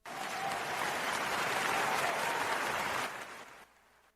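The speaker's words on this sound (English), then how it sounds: "That was clapping." Dense, sustained applause from a crowd, loud and even like heavy rain, holding steady for about three seconds before quickly fading out.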